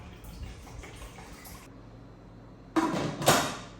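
Hot water is poured into a pressure pot in a kitchen, a short splashing rush that ends a quiet stretch with a brief gurgle near the end.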